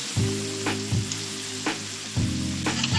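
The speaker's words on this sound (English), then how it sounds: "there's oil popping everywhere" Smash burgers topped with onions sizzle in oil on a hot griddle, a steady close frying hiss broken by a few sharper scraping bursts, with no talking.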